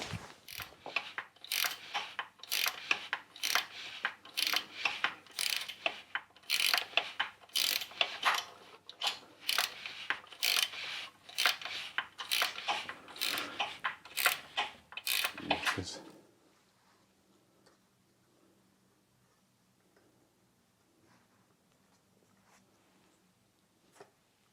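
Rapid ratcheting of a wrench tightening a small cross bolt with a nylock nut on the custom short exhaust of a Royal Enfield Classic 350, dense close clicks for about sixteen seconds, then near silence.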